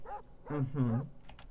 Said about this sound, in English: from the sound of it, there's still dogs running around